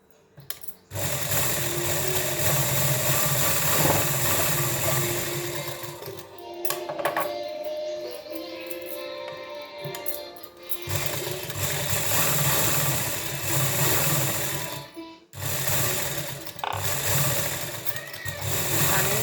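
A home sewing machine stitches blouses, running in long continuous bursts with a steady mechanical whir, pausing briefly around the middle and again near the end before starting up once more, with no talking.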